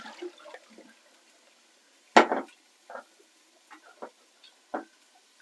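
Water drained off boiled potatoes in a home kitchen, heard as a few short, scattered splashes and drips, one louder gush near the middle, with quiet gaps between.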